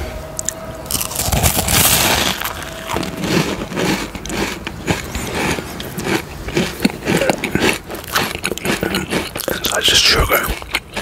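A crunchy Chinese Phoenix roll cookie made with sugar and coconut is bitten and chewed up close, with sharp crackling crunches repeating steadily and soft whispering in between.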